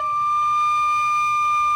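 A bamboo flute overblown with stronger breath so it jumps to a higher note, held as a clear, steady, pure tone for nearly two seconds before cutting off.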